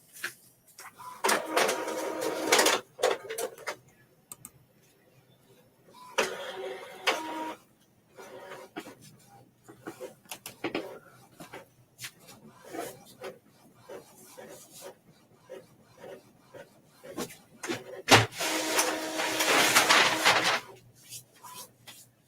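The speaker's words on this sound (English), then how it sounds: "So go down to nozzle check and print." An Epson EcoTank ET-2720 inkjet printer prints a nozzle check, with bursts of mechanical whirring and shuttling, clicks and paper feed noises between quieter pauses, heard up close.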